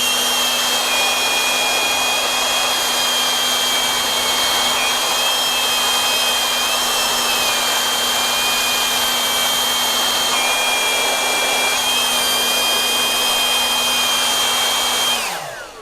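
Cordless leaf blowers, a Milwaukee M12 and a Makita 18V, blow with a loud, close, continuous high-pitched whine and airy rush, then spin down at the very end.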